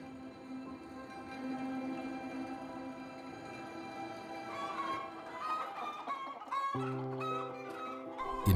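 Chickens cluck on a poultry farm in Malaysia's chicken and egg industry, a steady mass of hen calls that stays fairly loud and continuous, with a few sharper clucks and squawks standing out toward the end.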